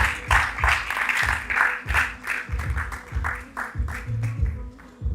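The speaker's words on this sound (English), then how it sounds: "Please keep the clap coming, keep the clap coming." An audience claps for a panelist at a content creation conference, with fairly loud applause arriving in rhythmic bursts for about five seconds as it gradually thins.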